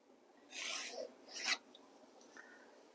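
Marker or chalk drawn along a scale on fabric for school uniform pants, making two short, close rasping strokes followed by a few faint scratches.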